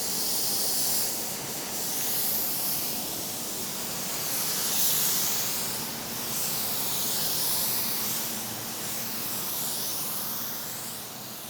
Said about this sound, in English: Let's apply that pearl coat.